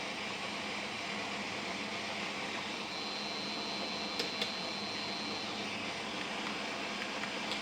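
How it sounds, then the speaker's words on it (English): A conventional model train locomotive on a Digitrax layout runs under throttle, its small electric motor giving a faint, steady hiss and whine with a thin high tone partway through and a couple of tiny clicks. "that conventional engine there responds to the throttle."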